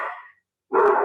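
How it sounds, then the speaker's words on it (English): Dogs bark indoors, two loud, close bursts separated by a short silence, heard alone without talking. "oh, I'm sorry, please excuse my dogs."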